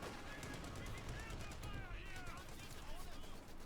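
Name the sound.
anti-tank gun firing in video game Company of Heroes 2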